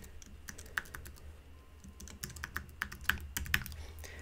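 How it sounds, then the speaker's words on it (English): Rapid, uneven keystrokes on a computer keyboard, a burst of close, crisp clicks with brief pauses, heard alone over a faint room hum. "I'm going to go ahead and click here, and I'm going to type Merry Christmas."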